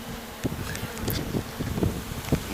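Honeybees buzz around a newly captured swarm hive being inspected a week after capture, a close, busy hum with wingbeat flickers and soft rustling against light wind noise.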